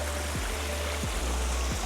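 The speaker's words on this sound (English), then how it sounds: "it looks like a man-made waterfall, but look at how beautiful this is" A man-made waterfall at a Hawaii resort pond with koi fish gives a steady, close, full rush of falling water, with a few low thumps recurring under it.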